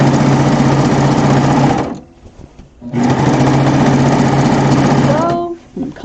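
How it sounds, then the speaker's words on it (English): A 4-thread serger overlock machine stitches a quilt-as-you-go seam, its loud, steady motor whir running close up, pausing briefly for about a second, then resuming before winding down to a stop. "I'm just holding everything nice and straight with my backhand as I stitch"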